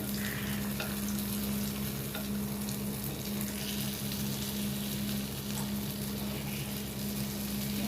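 Eggs sizzle steadily in hot oil and are stirred for Chettinad egg gravy, a continuous close frying hiss with faint scraping throughout and no voices.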